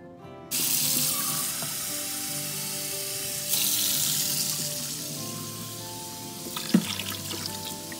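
Lukewarm water pours steadily from a tap into a container for several seconds, a constant rushing hiss, ending with a small clink near the end.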